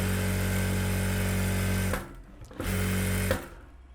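A sewing machine stitches the lining of a blouse in two close, steady whirring runs separated by a brief pause, with no talking.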